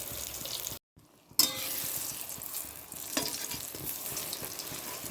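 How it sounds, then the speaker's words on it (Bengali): Potatoes fry with onion in a pan, making a close, steady sizzle with stirring scrapes, briefly cut to silence early on before the frying resumes. "আলু ভাজা হবে বেশ, পেঁয়াজ দিয়ে"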